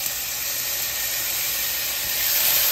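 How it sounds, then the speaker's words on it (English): Loud, steady sizzling hiss of garlic frying in a hot pan, continuous and close, growing slightly stronger toward the end. "Sizzle, sizzle. Yeah, we doing it now. Y'all hear that?"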